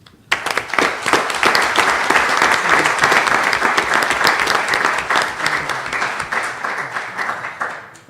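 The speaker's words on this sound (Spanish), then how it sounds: "Pido un aplauso, por favor, para el presidente, ese es su título eclesiástico, para el presidente Rodolfo Derbez Lozada." A lecture audience bursts into warm, steady applause for a church official at a genealogy conference, the clapping starting abruptly, holding dense and even for several seconds, then thinning as it fades.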